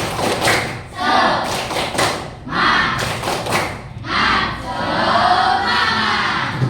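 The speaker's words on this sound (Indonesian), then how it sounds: "Ya, tepuk semangat supaya kita itu lebih bersemangat dalam belajar" A school class performs tepuk semangat, a rhythmic clapping chant in an Indonesian classroom, with loud group bursts of claps and voices in repeated phrases separated by short pauses.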